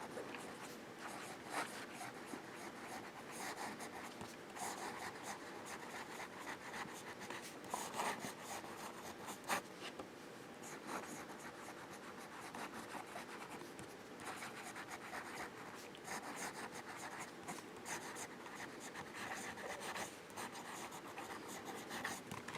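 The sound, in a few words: Sheaffer Student fountain pen with medium nib writing on paper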